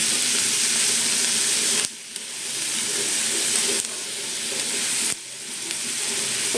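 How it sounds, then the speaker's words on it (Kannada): Spinach chapati dough mixed with salt sizzles and hisses steadily in a hot pan, broken by three brief dips where the stirring pauses, with a bright, close frying crackle and no talking. "ಈ ಥರ ನೀಟಾಗಿ ಮಿಕ್ಸ್ ಮಾಡ್ಕೊತಾ ಇರಬೇಕು"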